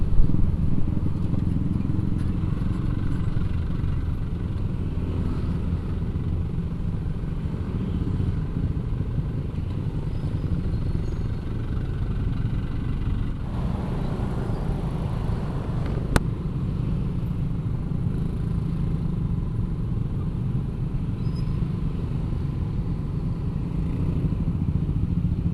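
Motorcycles and cars stuck in a hot traffic jam near Jembatan Kembaran 2, heard as a continuous close, low engine drone and road rumble with faint clatter, steady throughout.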